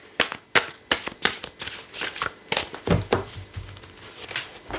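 A deck of cards is shuffled and cut for a Lenormand and tarot reading, giving a run of sharp, close riffling snaps and flutters at an irregular rhythm with soft handling sounds between them, and no voice.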